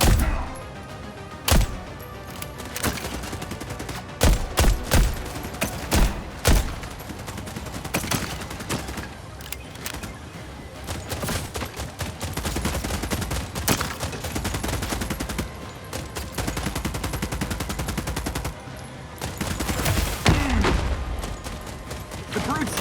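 Heavy PDC cannon fire from The Expanse: Osiris Reborn, sustained loud bursts of rapid automatic shots with booming hits, running almost continuously with brief pauses and a voice speaking over it.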